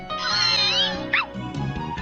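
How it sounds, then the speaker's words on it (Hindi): A cartoon cat in a Hindi-dubbed Shinchan episode meows loudly and clearly, a drawn-out meow followed by a short sharp cry, with no voices over it. "शीरो ने इस बिल्ली को बचाया है"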